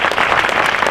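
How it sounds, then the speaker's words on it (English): An audience applauds elected officials at an evening community leaders meeting, a loud, dense burst of steady clapping filling the whole second. "give them all a really big round of applause"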